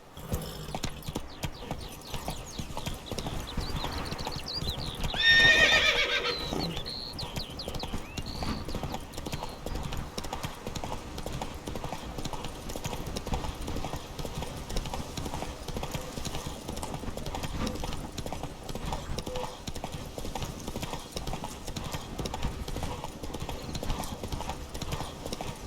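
Roach gallops hard through The Witcher 3, with a dense, constant thunder of hooves close up. A sharp neigh rings out early, then the run continues under game ambience.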